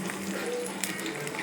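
Garlic sizzling in hot oil for a tempering while cooking radish sambar, a steady broadband crackle and hiss held close and even throughout the short moment, with no voice over it.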